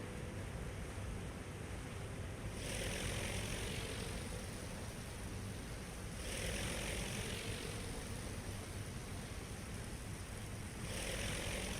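Fighter aircraft propeller engines in the carrier battle game Aircraft Carrier Survival drone steadily, a faint, continuous hum with a rushing layer that swells and fades in repeated waves as planes pass.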